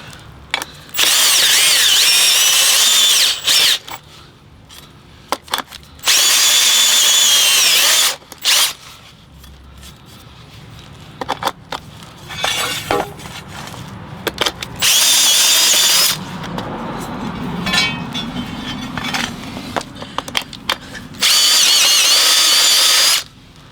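A handheld power tool deburring metal front and back plates for a piano-playing robot, running in loud, steady bursts of several seconds each, separated by quieter gaps with handling and clatter.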